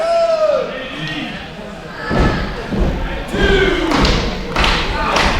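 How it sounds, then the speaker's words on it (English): A wrestler slammed onto the ring canvas by a backdrop in a Chikara versus New Japan match, a heavy thud followed by more impacts under excited commentary and crowd noise. "Kingston backdropping Smith"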